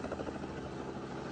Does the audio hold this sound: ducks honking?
no